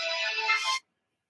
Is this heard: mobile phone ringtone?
yes